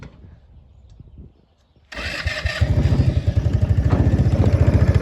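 A Yerf Dog go-kart's small engine is started: a few quiet clicks, a brief pause, then the motor catches and settles into a loud, steady, throbbing idle close by.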